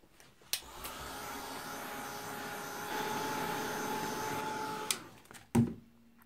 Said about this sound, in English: drying in between with my heat tool